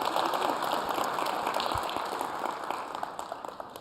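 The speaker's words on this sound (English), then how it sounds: "Big round of applause" Conference audience at a large tech event in Las Vegas applauding a presenter, scattered claps over a steady hall drone that fade toward the end.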